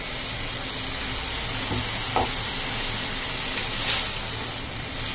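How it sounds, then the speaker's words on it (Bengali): Cashew and black pepper paste frying in a pan for a fish curry (kaju katla) gives a steady, close, hissing sizzle throughout, with a couple of faint stirring clicks near the middle and a brief brighter flare toward the end. "এবার আমি এর মধ্যে দিয়ে দিচ্ছি কাজু বাদাম আর গোলমরিচ যে পেস্টটা করে রেখেছিলাম সেই পেস্টটা"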